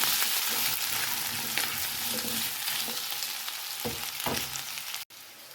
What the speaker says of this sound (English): Let's add in the ginger chili paste. Cook till the raw smell goes away.